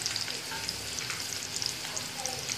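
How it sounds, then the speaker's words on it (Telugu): Finely chopped ginger and garlic fry in hot oil, giving a dense, continuous crackling sizzle close by with light spatter pops throughout and no talk. "ఇవి బాగా ఆయిల్లో ఫ్రై చేసుకోవాలి"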